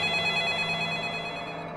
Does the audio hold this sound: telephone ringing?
yes